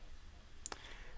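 A single soft computer mouse click while working in SOLIDWORKS, a brief sharp tick over a quiet background hum.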